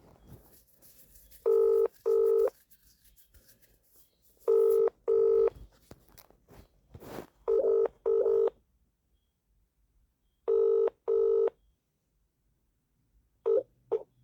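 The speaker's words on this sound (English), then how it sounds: "ringing up Christopher Browell." Paired electronic ringing tones repeat at regular intervals, a mobile phone's ring-ring pattern on the line before Vodafone voicemail, with quiet stretches in between and no voices.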